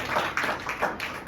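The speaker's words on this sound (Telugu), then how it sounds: "అందరూ చప్పట్లు కొడదామంటే" A small gathering claps along at a religious prayer meeting, with several rhythmic bursts of hand claps in a steady beat, moderately close.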